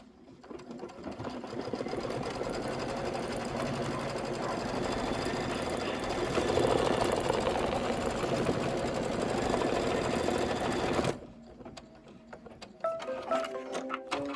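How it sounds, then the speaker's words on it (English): An embroidery machine stitches the outline of a clover leaf, a close, continuous rapid mechanical whirring for about eleven seconds, then stopping, followed by faint clicks and handling sounds. "It's going to stitch the outline of that clover leaf"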